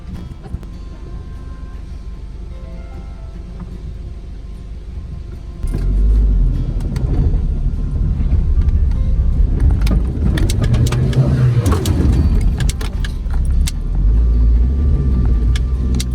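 Car engine rumbling and straining as the vehicle crawls over a rough, potholed mountain road, getting louder partway through with low thuds and rattles, close and without speech.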